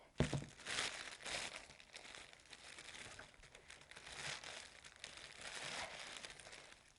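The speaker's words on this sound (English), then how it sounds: "I'm going to take my scissors and just put some cuts into it. And it just kind of pulls right off. It is Mylar paper" Scissors cut into Mylar paper, which crinkles and crackles steadily in dense bursts as it is handled and pulled away.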